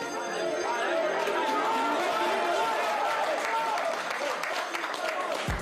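A record football crowd of 62,500 fills London Stadium at a Premier League match, a dense, continuous roar of chatter and cheering that stays loud throughout.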